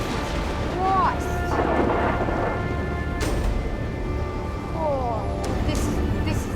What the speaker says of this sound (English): wind and heavy rain is a nightmare for any driver